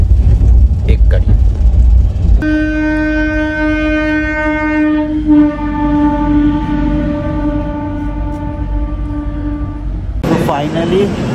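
A train pulls into Jagdalpur station with a low rumble and a long, sustained horn-like tone held for several seconds, with people talking nearby before and after.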